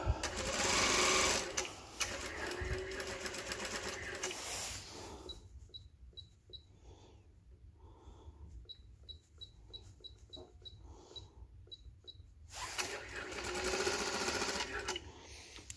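A Brother S7250A sewing machine stitches in bursts of rapid, even mechanical clatter. Quieter stretches between the bursts carry soft clicks and ticks.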